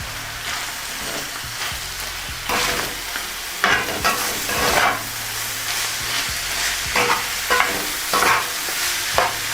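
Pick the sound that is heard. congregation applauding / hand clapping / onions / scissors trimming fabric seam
onions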